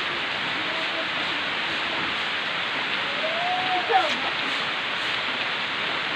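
Heavy morning rain pours down in a steady, dense wash of noise with no letup, loud and close throughout, while a faint voice is barely present beneath it.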